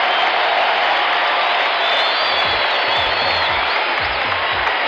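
An NBA Finals arena crowd in Portland roars with sustained cheering and applause, a loud dense wall of noise with a few low thumps near the end, filling the whole stretch.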